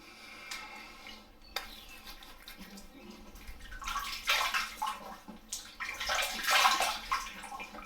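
Tap water runs over an alum block as it is rinsed off, a faint splashing stream that builds louder and busier toward the end, heard alone.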